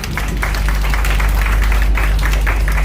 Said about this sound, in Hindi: मिस हाजरा शरी के लिए भरपूर तालियां